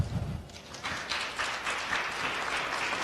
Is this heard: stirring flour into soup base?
no